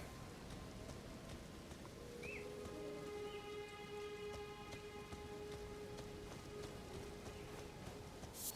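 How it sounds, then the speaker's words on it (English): Steady rain falls across the open world of Elden Ring on PS5 as an even, continuous hiss of droplets lasting throughout, with faint sustained game tones beneath and no speech. "Oh, it's starting to rain."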